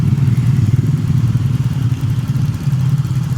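A Yamaha Soul GT 125 scooter engine idling loud and close during idle tuning, a throbbing low putter with slight rises and a clattery edge, running continuously with no talk.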